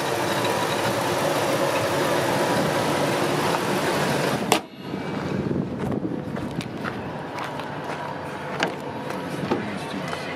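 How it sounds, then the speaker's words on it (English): A 4.6 liter V8 in a long-bed work truck with a newly fitted fuel pump idles smoothly, a loud steady rumble for the first half that then drops to a quieter, even run with light clicks. "Seems to be running smooth."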